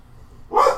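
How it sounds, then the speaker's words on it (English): A single short dog bark, said to come from outside, rises suddenly out of a quiet room and fades within a moment. "Somebody's dog is barking outside, so Shippo's getting crazy."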